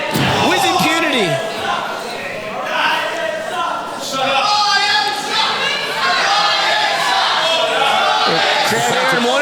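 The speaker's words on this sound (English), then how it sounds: "Crowd here in Mornington letting Orion know how they feel" A wrestling event crowd in Mornington roars and jeers loudly and continuously while commentators talk over the noise.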